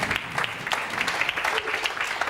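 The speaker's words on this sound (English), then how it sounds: "A round of applause, please." Brief lively applause from a crowd welcoming people to a stage, many hands clapping densely and steadily throughout.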